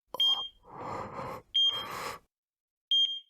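Three sharp electronic beeps from a hospital patient-monitoring device, sounding alone at regular intervals with quiet pauses between them, while a soft murmur of game sound fills the gaps.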